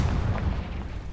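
A Confringo blasting spell bursts in Hogwarts Legacy, a short, deep, rumbling boom that fills the moment with low, roaring force and no voices.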